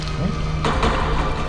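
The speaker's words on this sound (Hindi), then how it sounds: "कुछ आवाज आ रही है, पानी जैसी। पानी की आवाज? कमरे के अंदर पानी?" Running water heard indoors in a closed room, a steady broadband splashing rush like a tap or shower, continuous and fairly loud with no speech over it.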